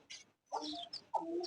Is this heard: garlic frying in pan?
no